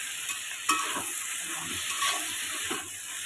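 Gourd and prawn curry fries with ground spices in a pan, giving a continuous close-up hiss and sizzle with a few soft knocks of a spoon stirring.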